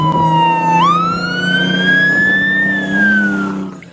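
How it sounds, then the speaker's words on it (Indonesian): Toy fire truck siren wailing loud and close, one long electronic tone that sweeps up sharply, holds rising, then slowly falls before cutting off. "di sini ada truk pemadam"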